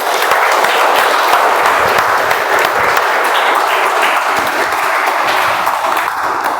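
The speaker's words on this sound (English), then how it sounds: "Let's start with the applause." Audience applause at a Toastmasters club meeting, a dense, steady wash of many hands clapping that holds at an even level throughout without letting up.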